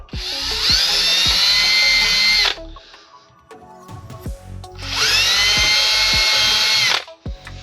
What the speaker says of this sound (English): Drill these holes.